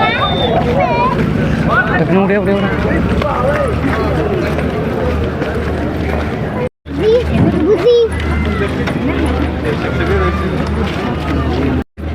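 A boat waits at a jetty on the trip toward Kanniyakumari, a steady low engine rumble with water and wind noise close to the microphone, while people talk loudly throughout.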